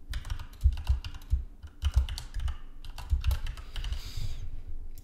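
Name being typed on a computer keyboard, a run of quick, fairly close clicks and key taps in irregular bursts over a low background hum, with no talking.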